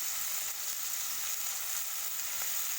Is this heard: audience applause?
no